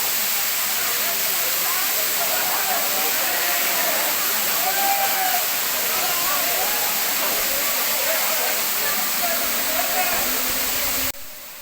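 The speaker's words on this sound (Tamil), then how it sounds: "இப்போ நீங்கள் பார்க்குறது பழைய குற்றாலம் அருவி" Old Courtallam waterfall, crashing down in a steady, loud, broad roar of falling water that continues without a break until it drops off abruptly at the very end.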